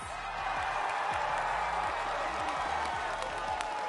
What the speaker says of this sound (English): the audience went absolutely insane